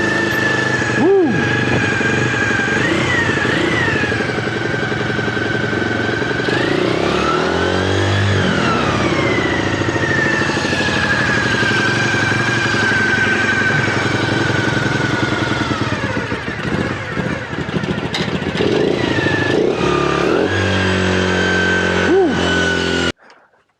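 A Honda Dream50 motorcycle engine running on a newly fitted carburetor, loud and close, holding a steady high buzz with rising and falling revs, then cutting off abruptly at the end.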